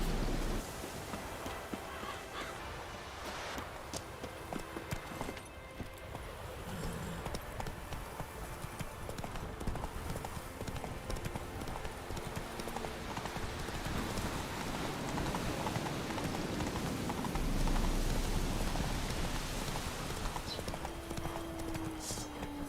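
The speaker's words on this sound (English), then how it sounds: "Run, Roach" A horse gallops in the rain in the video game The Witcher 3, with steady hoofbeats under rainfall and occasional faint talk over the top.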